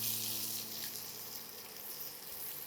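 Sliced onions frying lightly in a pan for paneer jalfrezi give off a steady, soft, continuous sizzle with no talk over it.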